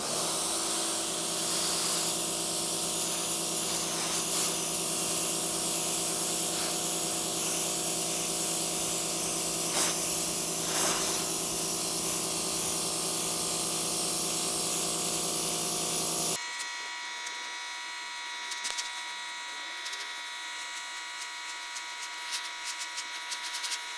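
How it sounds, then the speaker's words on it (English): Sun Joe SPX3000 electric pressure washer, 2030 PSI, spraying steadily with a loud continuous hiss and motor hum, then abruptly cutting to a quieter, thinner hiss for the last several seconds; no talking. "I'll let you do the pressure washing"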